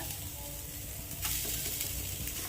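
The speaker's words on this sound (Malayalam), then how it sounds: "ഈ തേങ്ങ ഒന്ന് വറുത്തെടുക്കാം മീഡിയം ടു ലോ ഫ്ലെയിമിൽ വെച്ച് കൊടുത്തിട്ട് വേണം തേങ്ങ വറുത്തെടുക്കാനായിട്ട്" Freshly grated coconut fries in a pan over medium to low flame, making a steady, dense sizzle with faint stirring, close by and continuous, with no voices.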